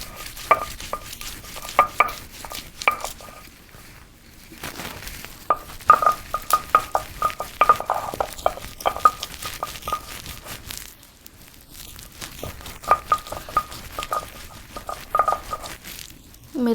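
Green chillies being coarsely ground on a traditional stone slab, a rhythmic series of close, sharp grinding strokes and gritty scrapes with brief pauses between bursts.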